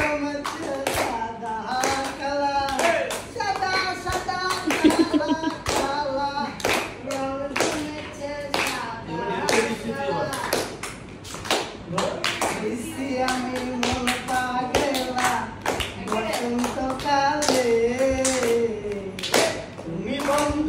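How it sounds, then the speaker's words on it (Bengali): A group claps along in rhythm to a Bengali song sung at a casual outing, the claps close and steady under a prominent singing voice for the whole stretch. "জোরে জোরে তালি হবে"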